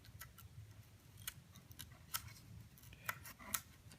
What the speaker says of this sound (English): What I'm gonna do is just gonna try to put the X-Acto knife and just cut it out, rough it in